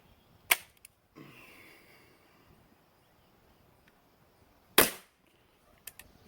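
Two sharp, loud cracks from a Beeman P17 air pistol fired through a chronograph, about four seconds apart, each with a short decay, plus a few faint clicks near the end and no talking.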